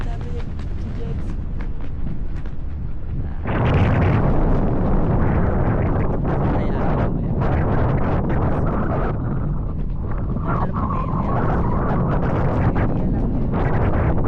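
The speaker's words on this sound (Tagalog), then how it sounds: "Ang lakas ng hangin." Strong wind buffets the microphone while parasailing over the sea at Boracay, a loud, constant roaring rumble that surges after a few seconds, with a person talking briefly underneath.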